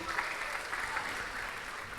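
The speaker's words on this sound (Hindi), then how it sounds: "सक्सेस के लिए ताली भी मरी मरी बजाते हो," An indoor audience at a talk claps steadily but faintly, a soft, even patter of many hands with no cheering.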